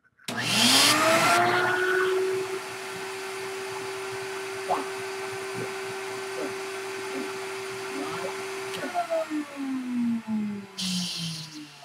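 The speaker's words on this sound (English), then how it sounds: "when I click this knob here, it's going to bring down the vacuum suction" A record cleaning machine's vacuum motor spins up to a steady, high whine and holds for several seconds, then winds down with falling pitch and gurgling suction noises.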